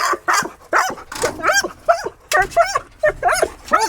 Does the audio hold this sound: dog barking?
yes